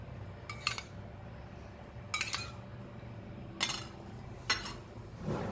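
Utensils clink against a bowl in four short, sharp bursts while Sindhi chothe dough is mixed with oil, quiet background in between.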